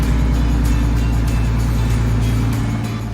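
A turbocharged BMW E46 car engine runs steadily at a constant idle, loud and close, with a deep continuous rumble and no talking.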